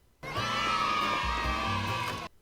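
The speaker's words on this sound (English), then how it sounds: "I did not like this sound effect that they use for when the children are at the soapbox derby." A stock sound effect of a crowd of children screaming and yelling at a soapbox derby, a loud, sustained burst of about two seconds that starts and stops abruptly.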